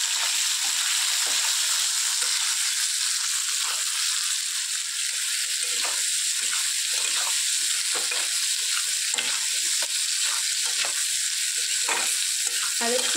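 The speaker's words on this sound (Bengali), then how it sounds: "আলুটা ফ্রাই হোক।" Potatoes seasoned with salt and turmeric fry for egg curry in a pan, giving a loud, continuous close sizzle with constant crackling and no voices.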